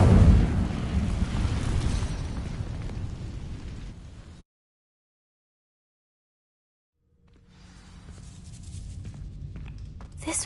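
A fire spell cast in the video game Hogwarts Legacy erupts as a loud, roaring burst that fades over about four seconds, followed by a silent gap before quieter ambient game sound returns.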